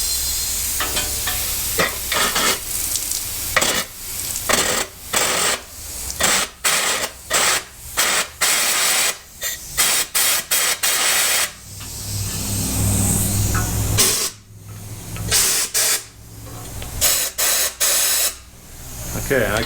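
Flushing cleaner sprays and hisses through the oil gallery of a 1948 Dodge sedan engine during a rebuild, a loud close spray that cuts in and out in repeated bursts with brief gaps.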